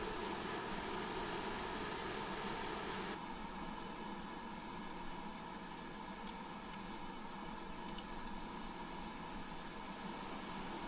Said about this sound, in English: that's how we're going to start the engines today as well